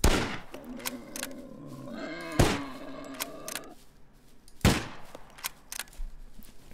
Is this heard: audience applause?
no